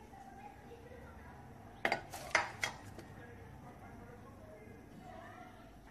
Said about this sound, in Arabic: دابا غادي نقطع طريفات من الفرماج البلو